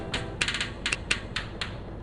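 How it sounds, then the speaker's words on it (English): Keyboard typing in the video game You Don't Know Jack Vol. 4 while a player enters a name: crisp, close, typewriter-like key clicks in quick irregular bursts of a few strokes each, with no voices. "You should be typing in your name now."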